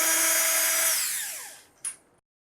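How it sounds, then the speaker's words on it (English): Power drill loosening self-tapping screws on a CNC machine end cap, one short close whir that spins down, followed by a brief faint click, with no talk. "So we're going to loosen each one of these screws."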